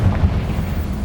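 A Confringo spell explosion in the Hogwarts Legacy video game hits as a loud, deep, rumbling boom that fills the whole brief moment.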